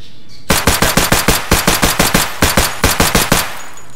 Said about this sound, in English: The Glock sounds nice.